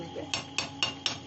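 A metal lid set over a pot of chicken curry clinks four times in an even rhythm. The knocks are sharp and close, in a quiet kitchen.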